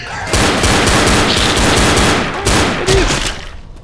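Rapid gunfire in the zombie shooter Left 4 Dead comes as a loud, dense burst of overlapping shots for about three seconds, with a couple of heavier blasts near the end.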